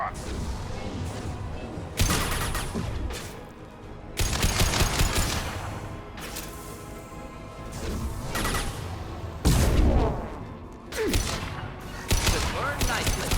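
Gunfire in Mass Effect 2 on Insanity difficulty: bursts of loud, dense shots and crashing impacts come and go in several waves, with brief quieter gaps, and a voice speaks over parts of the fighting.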